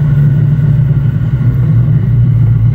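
A Nissan 350Z with a swapped engine drives along with its exhaust rubbing against something, producing a loud, steady low rumble and drone that continues unbroken throughout.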